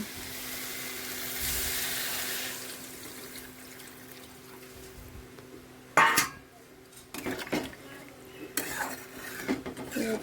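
Water is poured into a pan of simmering koi fish curry with potatoes and bottle gourd greens, giving a soft rushing splash for a couple of seconds, followed by quieter bubbling and a few sharp clinks of utensils against the pot.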